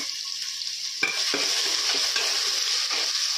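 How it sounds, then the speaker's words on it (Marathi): A coarse paste of green chili, garlic and cumin fries in a pan with a constant close sizzle; a brief stir or drop lands about a second in, and the hiss grows louder and continues without any voices. "हिरवी मिरची लसूण जे आहे आणि जिरे त्याचा भरडा टाकणार आहोत"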